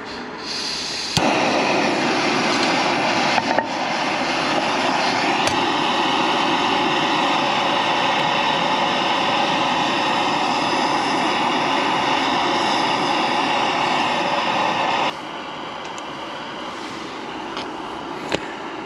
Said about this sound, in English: So now gonna get the gas on, gonna heat some oil, and then get the sausages going.